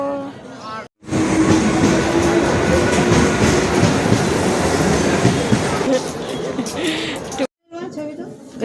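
A train pulls into a railway station with a loud, sustained rumble and rattling clatter that lasts several seconds, while people talk nearby before and after it passes.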